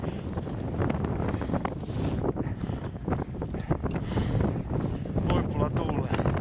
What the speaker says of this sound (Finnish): Huipulla tuulee. Tuulista on.